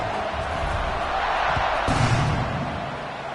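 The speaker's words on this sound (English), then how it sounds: "this crowd is buzzing after that last score" A large football stadium crowd in a college football video game keeps up a loud, steady roar and murmur after a touchdown, continuous and broad, with a brief thud midway and no clear speech.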